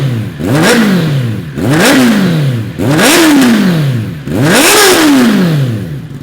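A Kawasaki ZX-10R motorcycle engine with an Arrow Pro Race titanium exhaust revs four times in quick succession, each blip rising sharply and falling back, loud and close with a raspy exhaust note.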